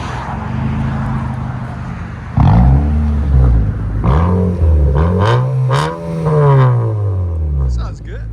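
A straight-piped 2020 Nissan Altima SR with a 2.5-liter four-cylinder engine idles and revs in several loud, close bursts. The engine tone rises and falls unevenly over about eight seconds.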